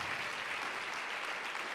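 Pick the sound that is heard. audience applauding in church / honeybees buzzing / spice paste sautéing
audience applauding in church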